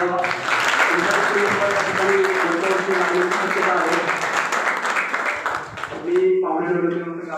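Applause from an audience at a school anniversary student-honours ceremony, a dense, steady wash of clapping lasting several seconds, with voices and a brief dip near the end before it swells again.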